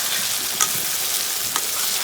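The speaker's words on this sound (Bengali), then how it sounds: "এই পেস্টটা দিয়ে ভালো করে কষাতে হবে যতক্ষণ না পর্যন্ত তেলটা বেরিয়ে আসছে" Spice paste cooks in hot oil with whole garam masala tempering, giving a steady broadband sizzle and frying crackle, with a few brief scraping stirs near 0.6 and 1.55 seconds, close and continuous, with no voices.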